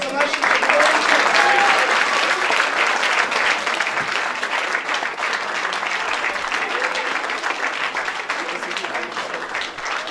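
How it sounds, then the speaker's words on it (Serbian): Big, sustained applause from a church congregation at an ordination service in Leskovac, a loud wash of clapping that holds steady throughout with voices mixed in. "Ajde, jedan veliki aplauz za naši"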